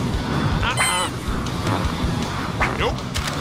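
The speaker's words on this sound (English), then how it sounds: "A chicken?" Honking and clucking bird calls from a chicken in the Deadpool video game, several sharp squawks scattered over a busy backdrop of game noise and effects.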